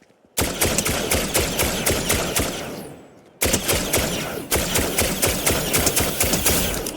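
Marksman rifle gunfire in a video game, a steady string of loud, evenly spaced sharp shots in two long bursts separated by a brief pause, close and without talk.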